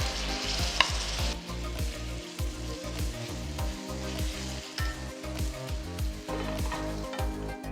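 Chopped tomatoes and slit green chilies sizzling in a frying onion masala with ginger garlic paste, a loud, continuous hiss and crackle close by, broken by the rhythmic scrape and clatter of stirring throughout.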